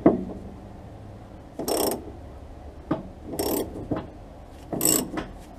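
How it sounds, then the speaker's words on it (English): Hand ratchet clicking in short bursts while undoing fasteners on the rear axle of a Rover P6 V8, three or four separate runs of close, fairly loud ratcheting with quiet pauses between them. "I'm going to do this with a ratchet."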